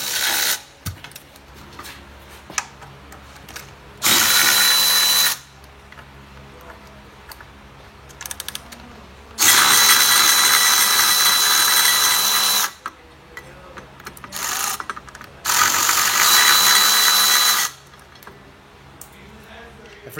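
A ratchet fitted with a 10 mm triple square socket removes bolts from a bracket, giving three loud, sustained bursts of grinding mechanical noise separated by quieter stretches of background sound.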